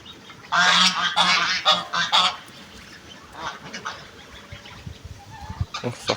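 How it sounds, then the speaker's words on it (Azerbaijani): Geese, including a bearded breed, on a rural farm honk loudly in a rapid cluster of calls near by, then fade to scattered quieter honks and background farmyard sounds with no talk. "Sakallı da bu qazların."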